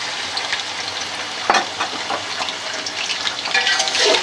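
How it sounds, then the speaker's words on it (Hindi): Raw chicken pieces for a Shinwari karahi hitting hot oil in a wok-style pan, a sharp loud sizzle burst when added, then a steady crackling fry with stirring scrapes, close and without talk. "अब हम ये चिकन साथ साथ डाल देंगे"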